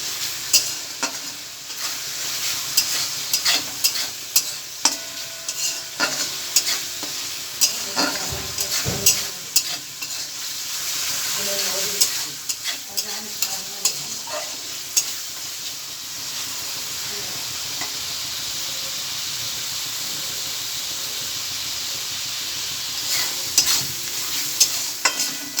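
Spice paste cooking in oil for a chicken, potato and pumpkin curry, frying with a steady sizzle while a spatula scrapes and stirs in repeated strokes, with a few louder clanks against the pan.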